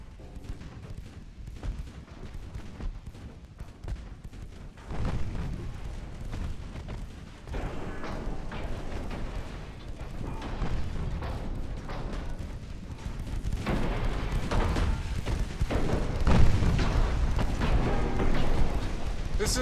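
Naval guns fire repeatedly as a destroyer attacks a heavy cruiser in the Ultimate Admiral Dreadnoughts naval strategy game, a dense, continuous rumble of booming gunfire and explosions that grows louder and fuller over time.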